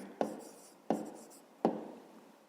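A pen writes on paper in three quick, close strokes, each a sharp scratch that fades, with quiet pauses between them.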